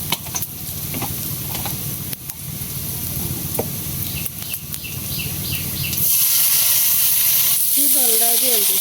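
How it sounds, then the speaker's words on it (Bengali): Onion and garlic frying in a pan with turmeric and chili powder added, a steady close sizzle with stirring scrapes, growing louder and hissier toward the end. "হলুদ বর মরিচ গুঁড়া দিয়ে দিতেছি, পেঁয়াজ রসুন দিয়ে বাজা বাজা গেছে"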